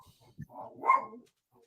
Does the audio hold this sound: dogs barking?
yes